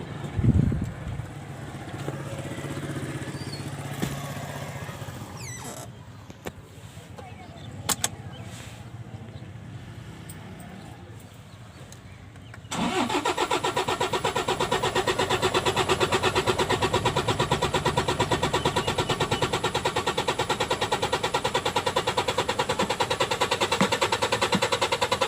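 Car with a faulty camshaft position sensor (code P0340) cranks for a long stretch, whirring and stuttering, before the engine catches and settles into a loud, steady idle for the rest of the clip.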